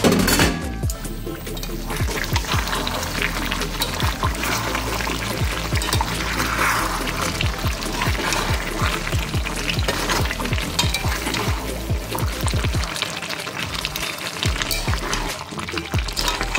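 Mutton and potatoes sautéing in a pan, with a loud, constant sizzle and frequent rhythmic scraping strokes of a spoon stirring, up close and without speech.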